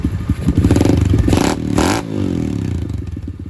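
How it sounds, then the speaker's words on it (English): A 2021 SSR dirt bike engine revs hard and loud at close range, with a rough, clattering bark that rises in two sharp bursts before settling back to a steady, throaty idle. "Pretty loud, man. Pretty loud bike."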